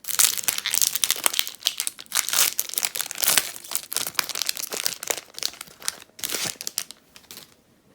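Magic: The Gathering booster packs being torn open, the foil wrappers crinkling and crackling loudly in dense, continuous bursts with short pauses, fading toward the end; no talking.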